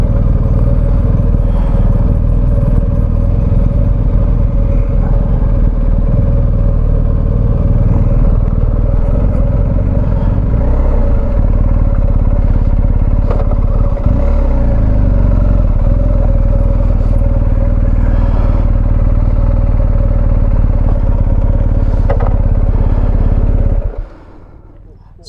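BMW GS motorcycle engine running loud and steady at close range through a slalom exercise, with clattering and shifting revs, cutting off abruptly near the end; speech is faint or absent.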